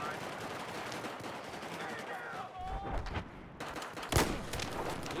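Bursts of Battlefield 4 tank gunfire crackle through a busy battle mix, with a sharp loud blast near the end over steady background noise.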